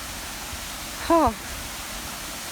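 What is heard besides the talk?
waterfall at Krantzkloof Nature Reserve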